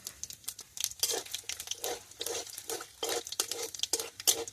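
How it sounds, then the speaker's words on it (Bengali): Dry chillies, bay leaf and panch phoron tempering in a kadai for meat, a close crackle and rustling stir in repeated bursts with soft sizzling underneath. "এবার আমি মাংসটা বসানোর জন্য ফোড়ন দিয়ে দেবো কড়ার মধ্যে"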